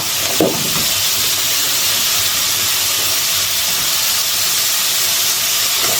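Chili pumpkin pieces hit a hot pan and sizzle, a steady broad hiss of frying that carries on evenly and close by, with a brief clatter at the start.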